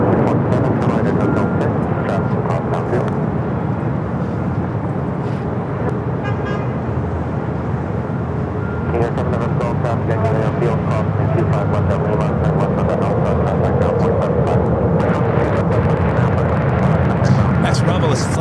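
A United Boeing 777 airliner crosses a runway at LAX, its engines a loud, steady broadband roar throughout, with talking heard over it.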